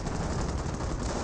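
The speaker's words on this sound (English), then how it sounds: "Got some sporadic fire." A dense burst of rapid gunfire from a Company of Heroes battle, loud rattling shots blurring into a continuous crackle with no pauses.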